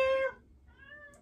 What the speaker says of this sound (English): How are you doing, kitty?